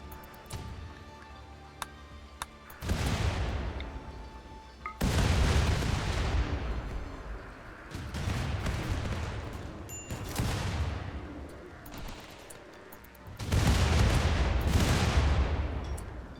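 Tank cannon fire and battle explosions in the video game RimWorld, several heavy booming bursts with long rumbling decays at irregular intervals, loud and close, set against continuous background gunfire.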